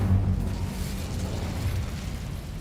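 The Incendio fire spell is cast in the video game Hogwarts Legacy, giving a short, deep whooshing burst of flame that rumbles loudly at first and then fades over a couple of seconds.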